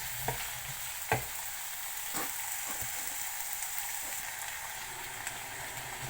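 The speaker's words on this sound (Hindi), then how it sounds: "आलू के जो कटे हुए स्लाइसेस हैं वो। इनको 1 से 2 मिनट फ्राई करेंगे।" Potato slices fry in oil for aloo bhujia, giving a soft, even sizzle with a few light knocks of a spoon turning them in the pan.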